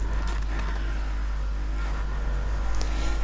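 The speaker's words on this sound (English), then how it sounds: "But this tune is for a V8." A loud, steady V8 car engine in a Need for Speed racing game drones continuously, with a brief rise in revs near the end.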